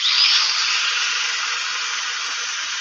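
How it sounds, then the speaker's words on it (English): A woodturning lathe runs with a steady, even high whir and hiss, close and constant with no voices over it. "Turn the speed of the lathe down a little bit."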